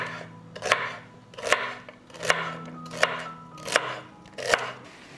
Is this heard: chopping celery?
yes